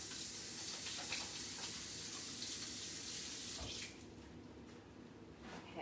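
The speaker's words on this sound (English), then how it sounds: "Let me wash my hands again." Kitchen tap running at a sink while hands are washed, a close, steady water rush for several seconds that eases slightly near the end.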